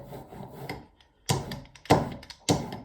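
An ink roller is worked back and forth over an 8.5 by 11 inch area for a monotype print. Several close, rhythmic rolling and rubbing strokes come in short bursts with brief pauses between them.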